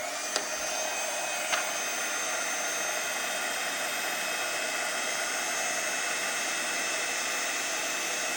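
A heat gun blows a steady, loud hiss of hot air over opaque bright white embossing powder on a card, continuous and close, with a couple of faint clicks near the start and no talk.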